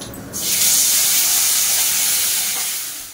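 Lentils and spices for a tempering frying in hot oil, a loud steady hiss that rises sharply after a quiet start and holds for a few seconds, with no voices.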